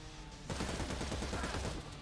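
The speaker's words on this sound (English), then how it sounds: "You're going to hear the gunfire." Gunfire in the tactical video game Cyber Knights: Flashpoint: after a quiet half second a dense burst of rapid shots erupts and rattles on steadily for over a second before easing off, alone with no talking.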